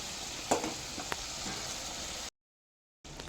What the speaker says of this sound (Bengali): এরপর চিকেনের টুকরো আর আলুগুলো দিয়ে দিচ্ছি। তারপর খুব ভালো মতো করে কষিয়ে নিচ্ছি।